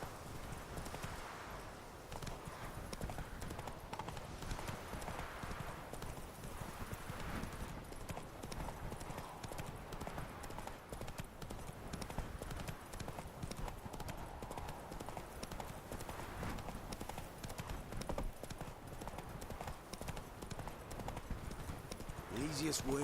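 Roach, the horse in The Witcher 3, gallops in a steady stream of rapid hoof clip-clops with game music and ambience, while someone talks quietly over it.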